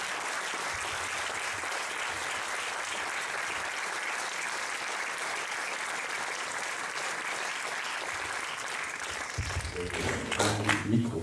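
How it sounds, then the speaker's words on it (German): An audience applauds at length after a film screening before a Q&A, steady dense clapping filling a hall, with some voices and handling noise rising near the end. "Applaus."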